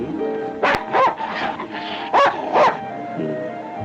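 A dog in the 1940 fantasy adventure film The Thief of Bagdad gives several close, loud yips and barks in quick uneven bursts, with whimpering tones between them.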